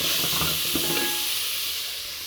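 Onion or tomato sautéing in a hot pan, giving a steady bright sizzle with a few soft stirring scrapes near the start, close and fairly quiet.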